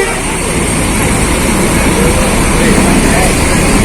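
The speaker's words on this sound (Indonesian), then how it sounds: "Nah, ini mulai berdatangan bis-bis." Buses roll into the crowded Bungurasih bus terminal during the post-Lebaran travel rush, a dense wash of engine and traffic roar with a crowd murmur throughout.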